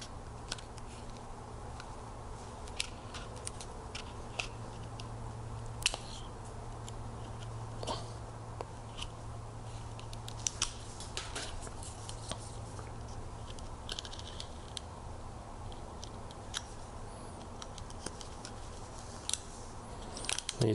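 A new blade on an X-Acto knife cuts a hole in a car floor mat, giving soft scraping and snipping ticks in an irregular rhythm close by over a steady low hum, with no voices.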